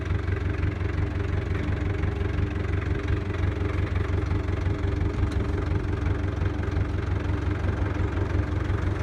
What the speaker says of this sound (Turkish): Ben şöyle motoru öbür sıraya yanaştırayım.